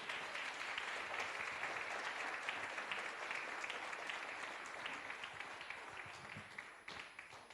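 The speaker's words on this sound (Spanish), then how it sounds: "Un aplauso para el Señor. Y si es para el Señor, más fuerte, por favor." Sustained applause from a church congregation, a dense steady clatter of many hands clapping that holds throughout and fades slightly toward the end.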